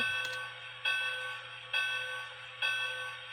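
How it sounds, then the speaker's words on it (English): A bright bell on a Lionel O-gauge Hogwarts Express model train rings in repeated strokes, about one per second, each chime ringing out and fading before the next, close and clear. "Well, here's the bell."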